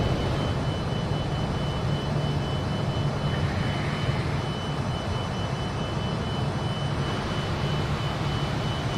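A Fokker F28 regional jet takes off in a flight simulator game. A loud, steady jet engine roar and whine runs throughout, with no voices.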